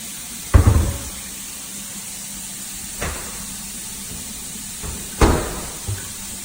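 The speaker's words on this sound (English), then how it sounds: "Doors open and close properly." Cabinet doors in a home are tested, opening and shutting in three distinct thumps spaced a couple of seconds apart, each close and fairly sharp, over a steady low background hum.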